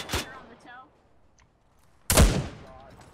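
Two loud, sharp gunshots in ArmA 3, one at the start and one about two seconds later, each with a rolling echo tail fading into a quiet gap, with faint voices on a radio in between.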